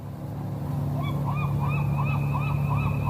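A bird honks repeatedly in The Journey Down, a steady series of goose-like calls over a constant low background hum in the game.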